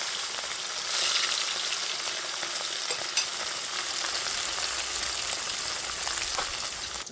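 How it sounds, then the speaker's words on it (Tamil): Vaalai fish fries in hot oil, a loud steady sizzle that fills the clip with a few sharper crackles and pops. "எண்ணெய் கொதிச்சுட்டு நான் மீனை சேர்த்து பொரிப்போம்."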